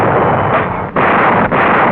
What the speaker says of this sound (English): Now the enemy artillery opens fire